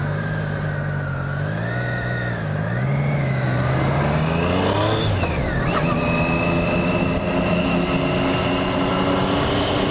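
Triumph 675 Street Triple three-cylinder motorcycle engine revving up through rising harmonics after a downshift into first gear, loud and close, continuing as a steady high-pitched drone with some wind noise.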